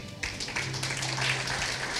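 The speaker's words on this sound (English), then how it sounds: "Clap your hands for the security consultant" Audience applause for a jury member at a security summit in Skopje, a steady broadband wash of clapping from a crowd that swells after a quarter second and holds through the end, with a low hum beneath.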